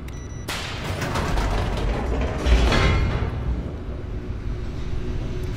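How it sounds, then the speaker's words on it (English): Freight elevator machinery in The Stanley Parable, a steady mechanical rumble and grinding hum that swells with a louder clunk midway before settling into a continuing low drone. "freight elevator."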